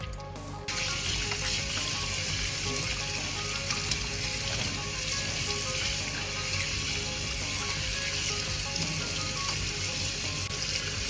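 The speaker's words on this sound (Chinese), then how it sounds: "猪肚，先把里面这些黏黏的稍微冲洗一下。" Running tap water rushes steadily over a raw pig stomach being rinsed in a sink, a loud, unbroken stream from the first half-second onward with no speech.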